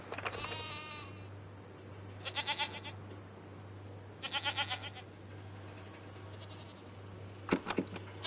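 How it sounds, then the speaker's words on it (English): A goat bleats four times in close, clear calls with pauses between them, over a steady low hum. "What are these strange goat-like creatures? Are they simply goats?"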